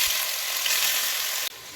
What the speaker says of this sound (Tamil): எண்ணெய் சூடானோடனே நம்ம மேரினேட் பண்ணி வச்சுருக்கிற சிக்கன் இதை சேர்த்துட்டு